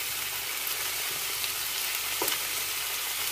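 Chicken drumsticks browning in a frying pan over a moderate flame, giving a steady, close, even sizzle that runs unbroken throughout with no talking.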